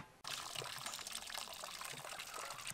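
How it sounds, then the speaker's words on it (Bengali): Water runs off boiled whole vegetables for Bengali gota seddho in a steady, splashy gush that starts abruptly and keeps pouring, close and fairly soft. "এবার এটাকে তুলে জল ঝরিয়ে নেব।"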